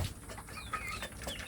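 A native village chick kept alone in a cage peeps in a few faint, high chirps over low background noise.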